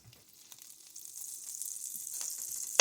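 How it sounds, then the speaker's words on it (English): Butter melting in a pan gives off a faint, steady sizzle that slowly grows louder over a few seconds, with a few soft clicks along the way. "So just let the butter melt."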